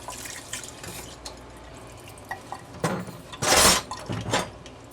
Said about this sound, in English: So I will wash my hands off here.